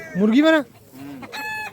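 Rooster at a village chicken market in Manpur Mohla, Chhattisgarh, giving a loud close crow with a rising-falling harmonic call, a short pause, then a second burst of sound.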